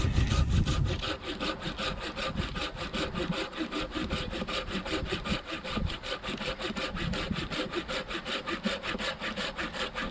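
A hand saw rasps through dense wood in a fast, steady back-and-forth rhythm, close and continuous, with no talking.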